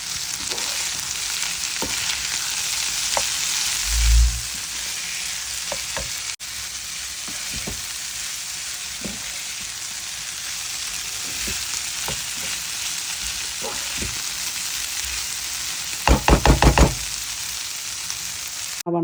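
Washed, cut eggplant frying in a pan at home, a continuous soft sizzle with occasional spatula knocks and a brief burst of rapid clatter near the end.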